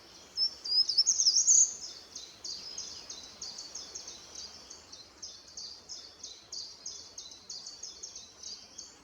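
Short-toed treecreeper singing, a high thin trilled phrase that is loudest at the start, then repeated softer chirps run steadily throughout, fairly distant with no talking.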